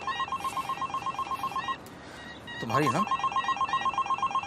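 A telephone rings with a repeated electronic trill in steady bursts, briefly interrupted while someone speaks over it, then the ringing resumes.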